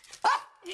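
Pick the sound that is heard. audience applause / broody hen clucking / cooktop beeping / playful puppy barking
playful puppy barking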